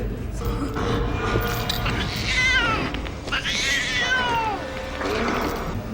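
A cat meows and caterwauls several times in drawn-out, rising and falling cries over a steady background hum, with other sounds mixed in around it.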